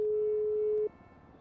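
A phone's electronic tone holds steady for under a second and then cuts off, close and alone, with faint room noise left behind.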